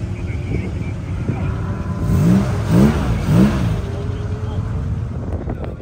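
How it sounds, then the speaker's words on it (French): A classic Jaguar XK150S sports car driving at a circuit during the Tour Auto rally. Its engine holds a steady low drone, then swells in three quick rising revs near the middle before settling back under light wind noise. "c'est Nicolas qui est au volant de la XK150"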